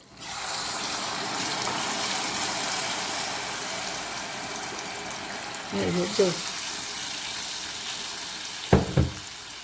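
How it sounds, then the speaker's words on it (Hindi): Water pours into a hot pan of suji halwa with a loud, steady sizzle and hiss, followed by a few short clanks of a utensil and brief voices. "2 कटोरी मैंने पानी डाल दिया इसमें"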